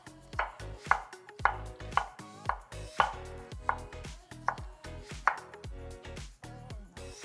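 A knife slices through a shallot on a cutting board, a dozen crisp, evenly spaced cuts each ending in a light knock on the board, close up and quiet with no talking.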